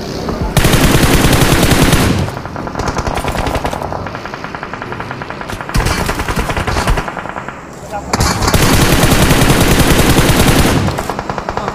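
Sustained bursts of rapid automatic gunfire, loud and close, broken by short pauses with quieter shots and scattered game sounds between volleys.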